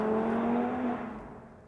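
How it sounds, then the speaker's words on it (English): A single car drives past during outdoor filming, a steady whirring engine hum that fades as it moves away, brief and fairly close, with no talk. "A car drives by while you're shooting a shot."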